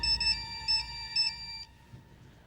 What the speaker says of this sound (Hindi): बिरजू की वाइफ का फोन है।